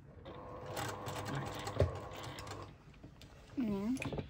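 Short whirring bursts from a sewing machine stitching back and forth over fabric, quiet and close, stopping and starting with small mechanical clicks, while a person talks over it.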